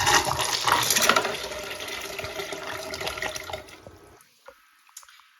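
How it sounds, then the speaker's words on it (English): A high-tank toilet flushes two marbles down the bowl: a loud, close rush of water that swirls and gurgles for about four seconds, then cuts off sharply, leaving a few faint drips and trickles in near silence. "we'll give this a flush and see if it does these 2 marbles"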